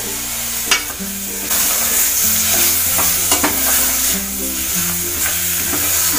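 Tomatoes for a mutton curry sizzle and fry in a pan while a utensil stirs and scrapes in occasional strokes, close up and without talk.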